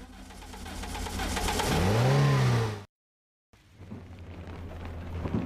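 A car engine in a psychological horror video game swells and revs for a few seconds with a rising, droning pitch, cuts to dead silence, then comes back as a lower idle rumble, with no voices.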